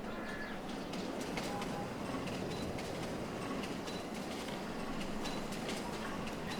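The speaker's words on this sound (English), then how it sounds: "just keep waiting for this train. Here it is. Rear end first." A freight train rolling past rear end first, its wagons giving a steady rumbling clatter with rhythmic clicks over the rails, loud and close, while birds call faintly in the background.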